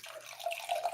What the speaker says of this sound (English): you want to fill her up with water